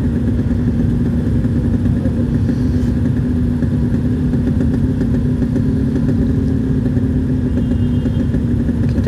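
Motorcycles and cars idle and creep through a heavy traffic jam on a busy road, a dense continuous rumble of engines at close range with no voices.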